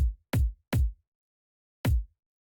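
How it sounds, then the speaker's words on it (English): A deep drum and bass kick drum sample struck four times, three quick hits followed by a pause and a fourth, each a booming low thump that cuts off cleanly into silence. "I've got a deep drum and bass kick, which I quite like."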